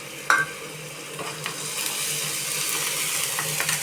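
Ginger and garlic frying in oil for a chicken gravy, a steady close sizzle with a sharp metallic clink near the start and a few soft stirring scrapes.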